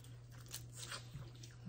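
Someone chews on boiled spicy Louisiana crawfish, making soft, quiet crunching and biting sounds close to the mic over a low steady hum, with no talk.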